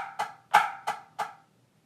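Four sharp snare drum strokes from a drumline pattern, evenly spaced with the second hit accented, each a crisp close attack with a short ringing decay, played alone at moderate volume.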